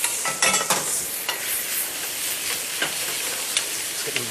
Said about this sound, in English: Some pears, sear them a little bit, so a little bit brown.